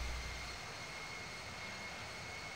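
An airplane engine in the Infinite Flight mobile flight simulator game, played on an iPhone 10, gives a steady, faint, continuous droning hum with a constant whine, with no talking.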